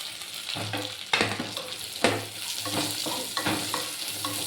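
Onion pieces fry in a pan with a continuous close sizzle and crackle, broken by several sharp scraping stirs, no voice over it.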